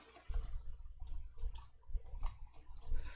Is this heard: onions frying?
no